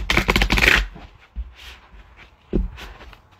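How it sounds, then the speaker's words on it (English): A tarot card deck being shuffled by hand, a quick riffling burst at the start followed by a few softer taps and brushes of the cards. "All right, one more shuffle."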